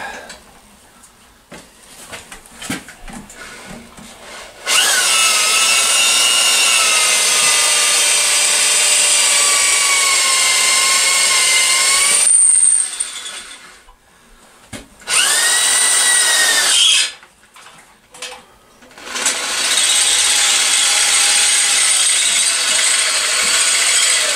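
A power drill whines loudly in several long bursts, its pitch wavering as it bites, separated by quiet pauses and faint clatter.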